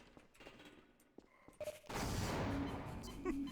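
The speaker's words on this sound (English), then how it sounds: "Throw a grenade!" Grenade explosion in the game Half-Life: Source: after a quiet stretch with faint mechanical clicks, a sudden loud broadband blast erupts and rolls on as a dense, roaring rumble that fills the remaining seconds.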